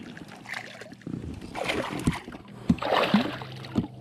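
A freshly caught bass thrashes beside a fishing boat, throwing out several close, sharp splashes and sloshes in uneven bursts, with brief voice sounds mixed in.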